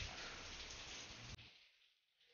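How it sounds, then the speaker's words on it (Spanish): Steady rain falls outside, a dense hiss of drops on surfaces that cuts off abruptly partway through, leaving only a faint soft patter before it swells slightly again; no one speaks. "¿Cómo hago para que no suene la lluvia?"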